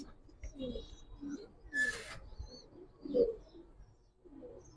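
Giribaz pigeons coo in low, soft murmuring bursts, with one fuller coo near the middle, over a dim background that holds faint voices and a brief bright rustle.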